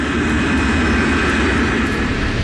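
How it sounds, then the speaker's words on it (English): A KLM Boeing 747 jumbo jet accelerates down the runway, a loud, steady, broadband engine roar with a deep rumble and a high whine, continuous and close with no voices. "Instead, Captain Van Zanten accelerates the KLM jumbo down the runway."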